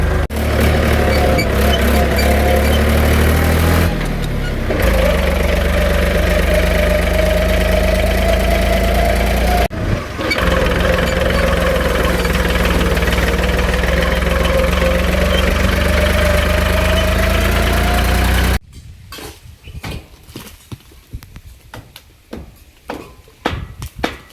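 A large farm tractor idles nearby at a shed site, a loud steady diesel rumble with a knocking pulse that holds for most of the stretch, briefly dipping twice, then cuts out to scattered clanks.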